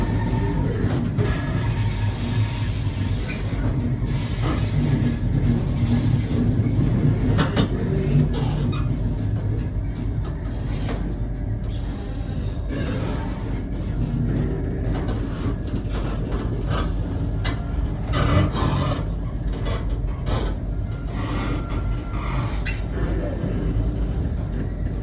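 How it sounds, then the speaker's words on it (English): Train pulling into Arbroath station, a steady broadband rumble of wheels and carriage noise running throughout with occasional clatter, close and continuous. "And we're now arriving at Arbroath."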